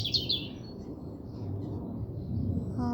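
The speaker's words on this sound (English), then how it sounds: "you can hear the sound of all those birds over there on that tree branch" Several birds chirp from a tree branch in the countryside on a morning after rain, with bright, quick tweets at the start and fainter calls later over a soft outdoor hum, and no one talking.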